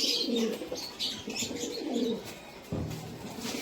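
Teddy pigeons cooing close by in repeated throaty, rolling calls, with no talk over them.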